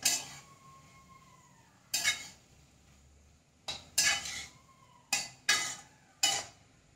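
Spoon scrapes and clatters in a pan while stirring a pumpkin leaf stir-fry (mathan ila thoran) with crushed coconut, green chili, shallots and cumin, about six distinct close stirring strokes separated by pauses.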